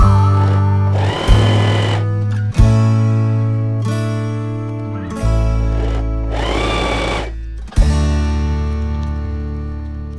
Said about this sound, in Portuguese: E agora é passar a costura em cima de cada um